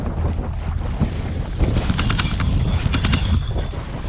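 Strong wind buffets the microphone on open water at Cottonwood Cove while paddling an Old Town Predator MK kayak, a steady broadband rush with gusty swells and splashy surges, close and loud with no talk.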